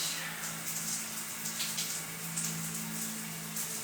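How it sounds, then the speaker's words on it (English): Steady running water rinses a brush during a dry-skin body treatment, a continuous broadband splashing stream with a low hum underneath, moderately loud and unbroken, with no voices. "Rinse the brush."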